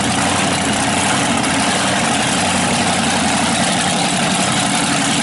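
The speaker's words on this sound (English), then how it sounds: "it looks like they started up that blown Chrysler" A supercharged Chrysler V8 idles loud and close at an outdoor car show, its blower surging in a steady, dense, rough drone that holds without pause.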